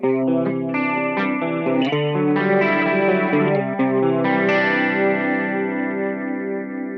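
Sustained electric guitar chords through a Boss GT-10 with a two-channel preamp, with a processed, chorus-like shimmer, played alone and loud, with a few changes of chord over several seconds.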